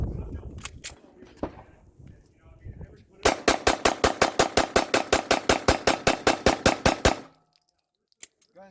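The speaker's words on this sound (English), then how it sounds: "We're going to shoot pistol rounds." Rapid string of pistol shots fired with frangible ammunition at a close steel target, about twenty sharp loud reports in quick rhythm after a few scattered quieter knocks and handling sounds.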